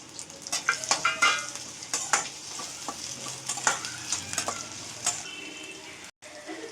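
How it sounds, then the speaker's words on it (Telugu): Onions sizzle and crackle in hot oil, loud and close, with repeated scraping strokes of stirring and a soft frying hiss underneath. "ఇప్పుడు ముందు ఆనియన్స్ వేసుకుందాం"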